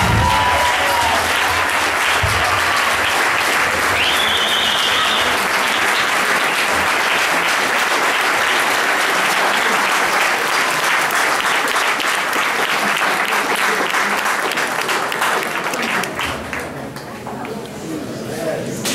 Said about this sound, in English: make a round of applause for all the panelists up here